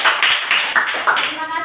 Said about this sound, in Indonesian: Ayo beri aplaus untuk temannya.